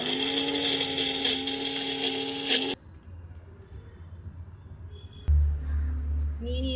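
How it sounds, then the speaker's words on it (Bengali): An electric kitchen blender grinds mustard with green chillies and a little salt into paste, its loud whirring motor running for a few seconds before cutting off, followed by quieter handling noises and a low thump. "এরপরে এটাকে আমরা ব্লেন্ডারে ভালো করে ব্লেন্ড করে নেব।"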